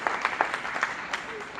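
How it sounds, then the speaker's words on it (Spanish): Church congregation applauding the Lord during a Spanish-language sermon, a brief burst of scattered clapping with a voice speaking over it. "Denle un aplauso al Señor."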